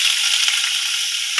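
Butter sizzling as it hits a few spoonfuls of hot oil in a pan, a steady bright frying hiss with no voices.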